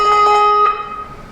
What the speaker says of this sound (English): if you want to shake, then the clapper will hit on both sides of the bell